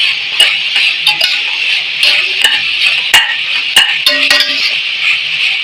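Ginger garlic paste with mint is sautéed in a pan, a steady loud sizzle broken by repeated sharp scrapes and clinks of a spoon against the metal.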